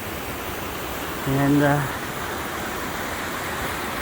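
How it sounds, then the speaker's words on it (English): A small creek at McHugh Creek runs steadily, a continuous broadband wash of flowing water that persists throughout, with a brief voice passing over it partway through. "It's a nice little place just to sit and listen to the water go by"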